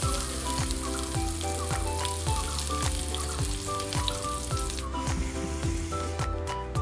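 Ginger garlic paste frying in hot oil after mustard seeds, a steady close sizzle and hiss that holds throughout, heard under background music with no one speaking.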